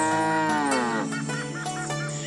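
Buffaloes in an animated Hindi horror story give a loud, drawn-out moo that falls in pitch, then a quick run of shorter pulsing lows, close and alone with no talking.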